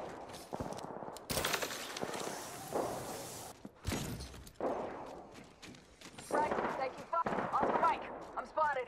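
Bursts of gunfire in the battle royale shooter Apex Legends, with sharp repeated shots and short rattling volleys broken by brief pauses, plus footsteps and voices speaking between the shots.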